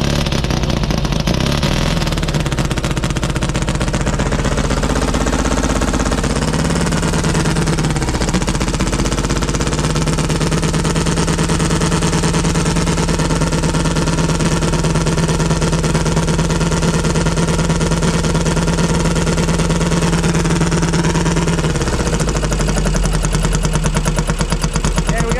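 A two-cylinder engine runs continuously, loud and close, with a harsh, rapid pulsing drone and slight shifts in pitch as it revs and settles.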